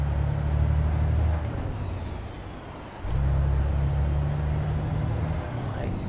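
Low diesel engine drone of a Peterbilt converted into an RV in American Truck Simulator, a heavy rumble that drops off for a moment mid-drive, then swells back as the throttle returns, with a faint rising whine.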